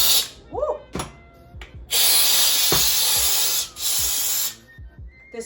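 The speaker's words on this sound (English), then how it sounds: "now I will get to work with the Bissell Steam Shot" A Bissell Steam Shot steam cleaner blasts a stove top in loud, close bursts of hissing spray, two long sustained jets broken by short gaps, with light clicks and scraping in between.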